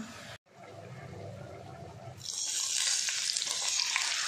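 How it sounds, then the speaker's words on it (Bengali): A ground spice paste of black cumin, white cumin, green chilli, ginger and garlic hits hot oil in a pan, bursting into a loud, steady sizzle after a quieter opening and continuing close up to the end. "তেলের উপরে দিয়ে ভালো করে কষে নেব।"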